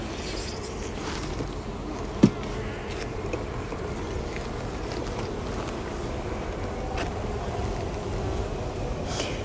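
Honey bees at an open hive fill the air with a steady, close, continuous buzzing drone, broken once by a brief sharp knock, and no one speaks.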